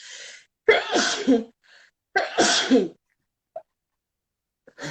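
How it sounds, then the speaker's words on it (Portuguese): A woman with rhinitis sneezes twice in close succession, each a loud, sharp burst up close, followed by faint breaths and small noises in an otherwise quiet room. "Eu tenho que espirrar, gente."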